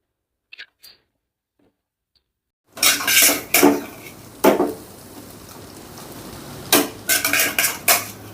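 Street-style veg noodles tossed in a pan with pepper and roasted cumin powder: after near silence and a couple of faint ticks, loud metallic clanks and scrapes of utensils against the pan come in bursts over a low background rustle.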